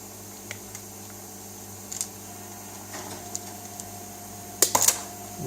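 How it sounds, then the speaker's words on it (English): A drive cable from an old IDE USB enclosure is cut, a crisp double snip of the cutters landing near the end after faint scattered handling clicks in an otherwise quiet room. "And now we have to just cut that cable."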